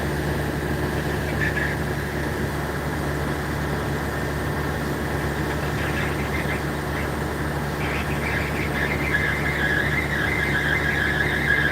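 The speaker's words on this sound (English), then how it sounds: "I can hear either the wheel or the bearings or whatever going on this machine. It's unhappy." A frac sand unloading machine runs steadily with a wheel or bearings squealing, a high, wavering whine that rises and falls in short bursts over a constant mechanical drone, close by and continuous.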